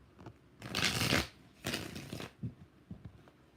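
Tarot cards shuffled in two long riffling bursts, close and fairly loud, followed by a few softer taps and flicks as the deck is squared, with no talking.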